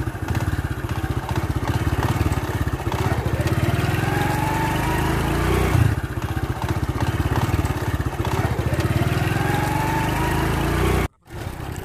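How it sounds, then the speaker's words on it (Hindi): A Honda CD motorcycle engine runs steadily and loud while riding past wheat fields in the late afternoon, a constant close mechanical drone with rapid firing pulses that cuts out briefly near the end. "ये रहा मेरा मोटरसाइकिल सीडी, इस पे चलते हैं।"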